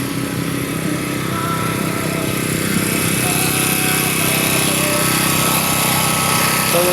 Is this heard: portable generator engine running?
yes